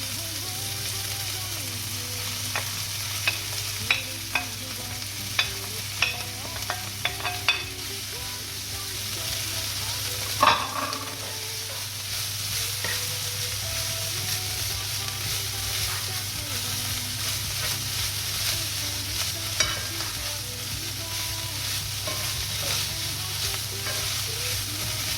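Tuna sizzles in a pan on lowered heat as filling for stuffed courgettes, a steady close frying hiss broken by scattered stirring clicks and scrapes, with occasional brief talk.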